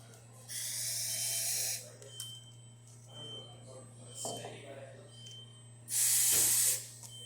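Steam wand on a freshly serviced La Pavoni lever espresso machine hissing loudly in two strong bursts, separated by quieter clicks and handling noise, close up with a steady hum underneath.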